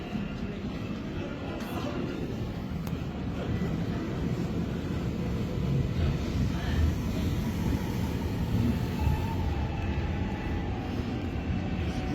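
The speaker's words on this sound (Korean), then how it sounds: "The train bound for Sinchon, Sunshine University is now approaching." A Korail Line 1 commuter train rumbles steadily into Suwon Station, a low continuous roar building slightly as it draws in, with faint high squeals over the noise.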